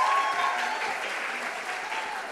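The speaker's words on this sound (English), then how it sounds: "One more round of applause." A crowd at a business plan competition final claps steadily and enthusiastically, a dense wash of applause that holds at an even level for the whole stretch.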